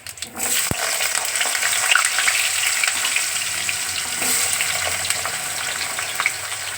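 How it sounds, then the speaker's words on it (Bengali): Potatoes drop into hot oil already tempered with garam masala and cumin, bringing an abrupt clatter and then a loud, even sizzle and crackle that holds steady close by for several seconds. "আলুটা একটু ওর মধ্যে জল থাকলে ফটাস ফটাস করবে"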